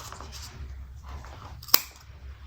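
A single sharp scissor snip trims bag material near a quiet room hum, one brief close click standing alone.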